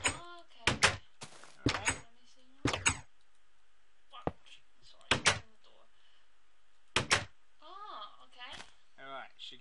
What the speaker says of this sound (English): Power the circuit. Door open.